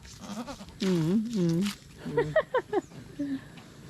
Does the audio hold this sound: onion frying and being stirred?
no